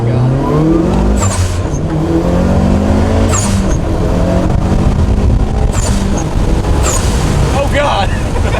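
Hard first-gear pull in a 550 hp E85-fuelled Mitsubishi Evo 9, a loud rising engine roar with stepped harmonics climbing, interrupted by sharp blow-off bursts and short pauses, heard from inside the car with excited voices over it.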